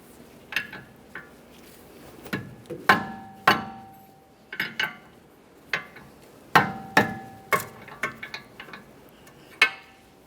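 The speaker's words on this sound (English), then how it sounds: "We'll use a 24mm wrench and break this free." Repeated sharp metallic clanks and taps as a 24mm wrench works at a tie rod jam nut on a 2011-2020 Toyota Sienna steering rack, irregular close hits spaced over the whole stretch.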